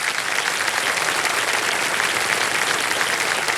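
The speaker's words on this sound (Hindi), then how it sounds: "तालियों के साथ उनका स्वागत" Studio audience on a television quiz show applauding to welcome a contestant's guest, a loud, even, sustained roar of clapping filling the room for several seconds with no talk.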